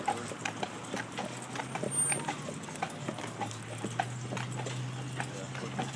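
Hooves of a team of carriage horses, one a large dapple, pulling a horse-drawn carriage, heard as a steady, fairly faint clip-clop rhythm over constant road and wheel rumble, with no talking over it.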